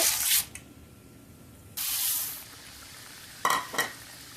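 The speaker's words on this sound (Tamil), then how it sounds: "இப்போ இந்த சூடான அதே மீதி எண்ணெயில் கடலைப்பருப்பு முதல்ல போட்டுக்கோங்க" Chana dal tipped into hot leftover oil in a pan, giving loud bursts of sizzle and spatter close by, with quieter frying in the gaps between them, for a tamarind rice tempering.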